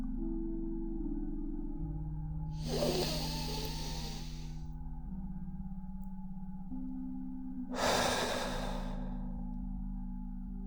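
Slow, deep breathing during a French guided meditation: two long, soft airy breaths several seconds apart over a steady low ambient music drone, no speech.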